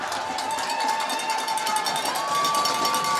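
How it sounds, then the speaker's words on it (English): Home crowd at a high school homecoming football game, North Penn against Pennridge, a steady loud roar of cheering and shouting with rhythmic clapping or noisemakers, heard from within the stands. "Crowd getting into it, cheering."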